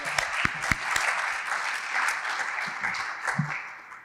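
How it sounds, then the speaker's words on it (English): An audience at a donors forum applauds the speakers, a steady mid-level round of clapping with a few louder individual claps standing out, lasting the whole stretch without talk. "can you give them a round of applause for..."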